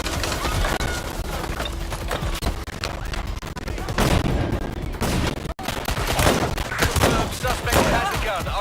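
Sustained gunfire from the video game Watch Dogs Legion, with heavy overlapping shots and volleys filling the scene, broken by short lulls, and faint voices under the shooting.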